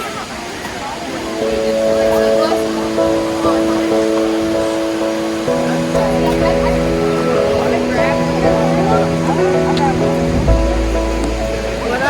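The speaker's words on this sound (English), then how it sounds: "We made it to Looking Glass Falls, and there was a long staircase, but it was totally worth it because the waterfall is very pretty." Looking Glass Falls, a waterfall in North Carolina, gives a broad steady rush of falling water beneath continuous talking, with a few sharp pops and some low wind rumble.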